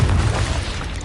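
A Confringo blasting spell explodes in a Harry Potter video game, a short, heavy boom with a low rumble that fades within about a second.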